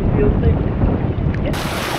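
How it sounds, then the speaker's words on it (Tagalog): Strong wind buffets the microphone on a small boat at sea among the Hundred Islands in Alaminos, Pangasinan, with rough waves washing around the hull in a loud, continuous roar. "Yung alon, lumalakas na talaga eh."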